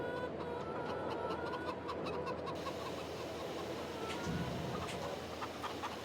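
Chickens cluck in a coop in the video game Farming Simulator 22, set against a constant dense farmyard ambience at low volume, with repeated short clucks scattered across the whole stretch and no talking.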